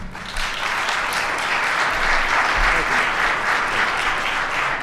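A crowd at a city community grant announcement in Chicago bursts into sustained applause for the mayor, a dense, even clapping that fills the room steadily for several seconds.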